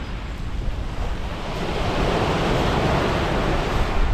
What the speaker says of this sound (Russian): В профессорском уголке на пляже море прямо под ногами.